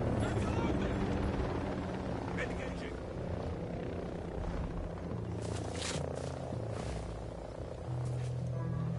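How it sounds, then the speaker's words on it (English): An enemy helicopter in a video game thrums steadily overhead, a loud, continuous rotor drone mixed with other game noise, with voices talking over it. "Enemy helo in the AO!"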